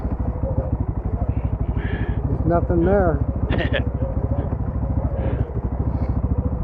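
An ATV engine braking down a steep 45-degree off-road incline, a close, steady low throbbing with rapid pulses throughout, running under someone talking.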